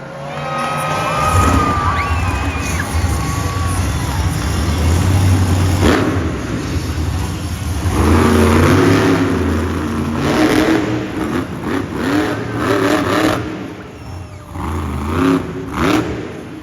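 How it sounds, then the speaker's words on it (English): Monster truck engine revving hard at a live arena show in Philadelphia, a loud continuous roar rising and falling in surges, with a large crowd cheering underneath throughout. "Make some noise for Eric Steinberg driving Gangster."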